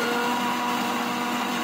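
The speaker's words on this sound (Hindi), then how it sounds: "तो ये रहा हमारा मिक्सर जार, तो यहाँ पर हम इसको डाल देते हैं और पीस लेते हैं।" A kitchen mixer grinder purees tomato and coriander into a paste in its jar, a loud, steady, dense motor whir that cuts off abruptly at the end.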